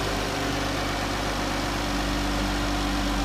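A 2016 Dodge Grand Caravan RT's 3.6 liter V6 idles with an even, low, steady hum, close by and continuous.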